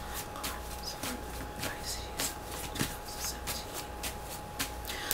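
Tarot cards being shuffled close up in a steady, continuous riffling flutter over a faint background hum, with no voice over it.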